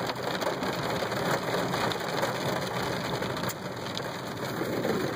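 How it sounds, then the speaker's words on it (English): Rain falls steadily and heavily on a car during a drive, a dense, even patter over a low engine and road rumble that keeps going without a break. "you can just see the raindrops getting, you know, bigger"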